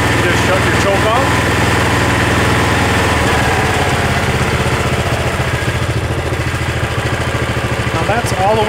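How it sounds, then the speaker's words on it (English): The small engine of an Ariens Power Brush 36 snow brush runs at low idle with a loud, steady, close-up drone, slightly uneven in places. "Now that's all the way down to low idle."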